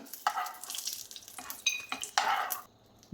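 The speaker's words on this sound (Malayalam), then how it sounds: "നെയ്യ് ചൂടായി വരുമ്പോൾ അതിലേക്ക് കുറച്ച് മിക്സഡ് നട്ട്സാണ് അതിട്ട് കൊടുക്കാം." Mixed nuts frying in hot ghee in a pan, with sizzling, stirring and scraping of a utensil against the metal, interrupted by a few sharper clinks.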